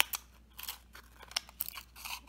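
Scissors snipping a piece out of a plastic bottle: several sharp, close cuts and crinkles of thin plastic in an uneven rhythm, quiet between strokes.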